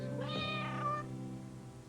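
A cat meows in a litter commercial: one drawn-out, tonal meow rising and falling over a steady background hum, close and clear, with no talking.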